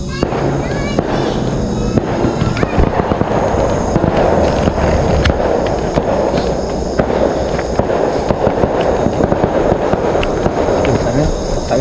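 Fireworks crackle and pop continuously in the near distance during Hari Raya Aidilfitri, sharp bursts layered over a dense rumbling background with occasional louder bangs.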